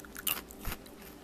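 Crunchy Cookie M&M's candies being bitten and chewed close to the mic, a few crisp crunches over about a second with no talking.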